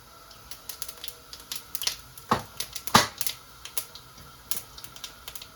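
Fennel seeds sizzle in hot oil for tempering a squid curry, giving off sparse, sharp crackles and pops that come quickly one after another at low volume, with no voices.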